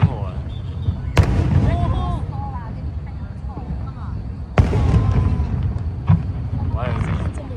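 Colourful fireworks show at Beimen in Taipei, with two sharp loud bursts followed by crackling and distant booms, while onlookers talk nearby throughout.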